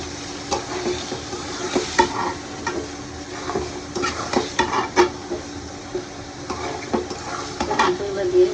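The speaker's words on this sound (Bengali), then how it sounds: "মাংসগুলো দিয়ে রেখে দিচ্ছি," Meat dropped into a pan of fried spice paste sizzles and crackles steadily, with scraping stirs and clinks of a utensil against the pot up close.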